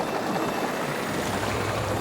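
A magic water sound effect called surge from a sorcery absorption library, a continuous rushing, churning water swell that stays loud and dense throughout its short length.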